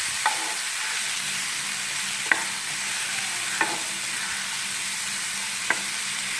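Chopped onions and tomato sautéing together in a pan for a Kannur-style fish curry: a steady soft sizzle, with a few sharp clicks of a spoon stirring and scraping spaced a second or two apart.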